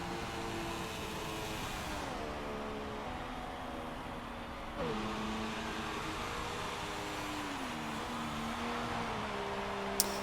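Formula 1 race car engine in the video game F1 2016, heard during a race in Bahrain: a steady, buzzing high-revving drone with shifting pitch as the car changes gear, running continuously with a brief click near the end.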